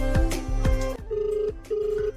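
A mobile phone rings out with nobody answering, a repeating electronic ringtone of bright tones and short sustained beeps, clear and close with no talking.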